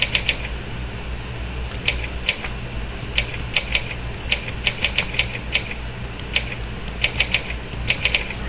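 Rapid keyboard typing, a steady flurry of sharp key clicks in quick irregular bursts, close and clear over a low fan-like hum.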